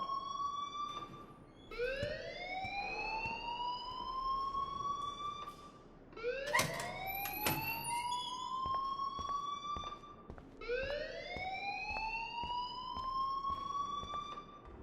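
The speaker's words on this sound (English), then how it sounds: "please turn off that alarm since that's your job" An alarm siren in the video game Life Is Strange wails in repeated rising sweeps, about one every four seconds, steady and prominent with a faint clatter beneath.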